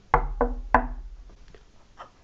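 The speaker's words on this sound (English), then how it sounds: "she knocked at the door." A door is knocked on three times, with two quick knocks and then a third after a short pause, close, sharp and hollow, followed by faint background sounds.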